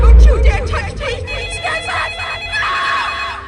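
A telephone rings with a steady repeating bell tone under voices and background noise, loud and close throughout.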